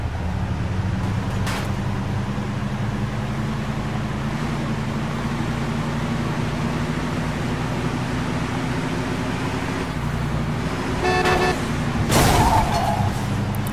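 A car being driven in Mafia II, a steady low engine drone running throughout with a brief horn-like toot and a louder rush near the end.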